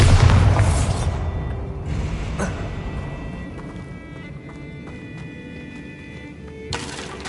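A Bombarda spell explosion in Hogwarts Legacy on PS5 opens with a loud, deep boom that rolls into a long, fading rumble. A second sharp burst comes near the end.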